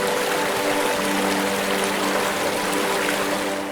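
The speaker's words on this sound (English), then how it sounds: "In Karan village, you can hear the swift flow of the Neelum River echoing through rocky crevices" The Neelum River at Karan village runs swift over rocks, a steady broadband rush of water that is loud and close, with no pauses and no voices.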